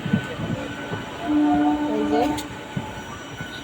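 A Bandel-bound local train runs along the rails near Bandel, a steady rumble of wheels with a brief rising squeal in the middle and a few short clacks, close and continuous, with someone speaking a couple of words over it.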